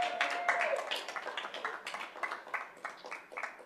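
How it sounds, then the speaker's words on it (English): Scattered applause breaks out at a school board meeting after a motion passes, a loose run of claps from a modest group, moderately distant and fading in waves. "Now applause."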